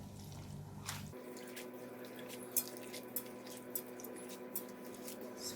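Coconut milk squeezed from grated coconut drips and squishes into a bowl: soft, close, irregular drips and wet squeezes over a quiet steady background, no talking.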